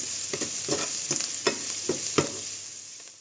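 Sliced onion fries over medium heat in a pan, a steady soft sizzle punctuated by about eight scraping stirs of a spoon, close and moderately quiet, fading slightly at the end.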